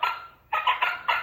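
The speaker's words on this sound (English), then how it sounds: "turkey, turkey," A turkey gobbles from a children's farm animal sound book: a short burst, a pause, then three quick gobbling bursts, close and fairly loud.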